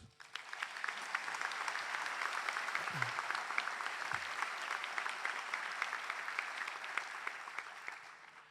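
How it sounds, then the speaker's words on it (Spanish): A large crowd applauds steadily and continuously, a dense wash of clapping that stays loud and even throughout. "Pido un aplauso para ellos."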